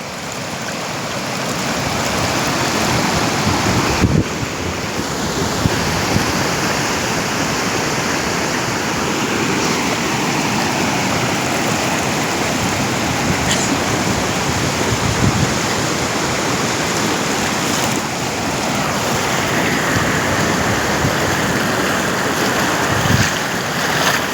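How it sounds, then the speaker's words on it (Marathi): A flooding river near Pandharwadi village rushes with a loud, continuous broadband roar of flowing water, steady throughout with wind buffeting the microphone and no talk. "आज या नदीचं पाणी पांढरवाडीच्या गावाला लागलेलं आहे"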